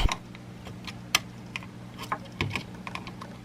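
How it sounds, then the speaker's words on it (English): Phillips screwdriver backing out the small screws of a Sony PS4 controller's USB board, giving sparse, light clicks and taps spaced apart, close and fairly quiet. "now we can remove that USB board with the Phillips screwdriver they provided"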